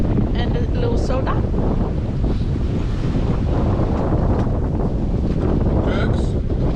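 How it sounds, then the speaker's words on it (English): Strong wind buffets the microphone aboard a fast-moving sailboat at sea off the coast toward Coffs Harbour, a loud constant rushing roar with water noise beneath and occasional voices under it. "The wind is picking up, we're going very fast."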